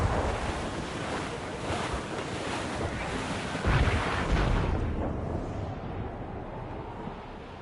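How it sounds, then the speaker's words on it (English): A stormy sea at sea aboard a sailing ship in Assassin's Creed Rogue: a dense, continuous roar of wind and crashing waves with a heavier surge midway, loud and steady throughout. "It's quite a rough squall, Captain."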